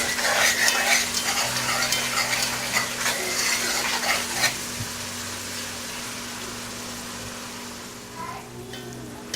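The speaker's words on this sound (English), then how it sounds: "I have the sofrito. It's cooking up. It's sticking to the bottom, and now the excess oil is coming up on top." Sofrito frying in oil in a pan while being stirred, with a soft crackling sizzle and utensil scraping that are busiest early and then ease into a quieter steady fry.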